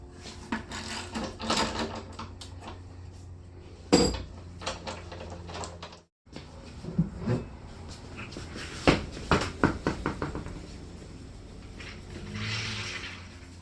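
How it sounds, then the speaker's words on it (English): Spare tire being removed from the rear of a Jeep Wrangler JK, with a series of close metallic clanks, knocks and scrapes, a brief silent gap midway, then more handling sounds. "So first thing we're going to do is take the tire off."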